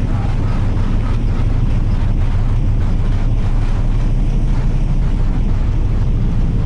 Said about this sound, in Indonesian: Ya mesinnya termasuk tenang kapal ini.